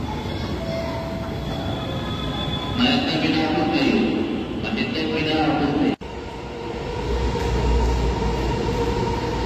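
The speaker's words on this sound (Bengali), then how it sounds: "বেশিক্ষণ অপেক্ষা করতে হলো না, সঙ্গে সঙ্গে ট্রেনটা চলে এলো।" A Kolkata Green Line metro train arrives at Sector V station, its rumble swelling and shifting in a continuous roar with a brief sharp break midway, while faint station voices blend into the background.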